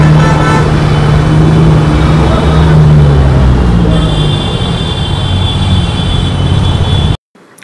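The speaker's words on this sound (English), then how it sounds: "Yeah, the traffic in Kolkata is something" Busy city road traffic in central Kolkata: a steady dense roar of engines and passing vehicles with low rumbling, close and loud throughout, cutting off abruptly near the end.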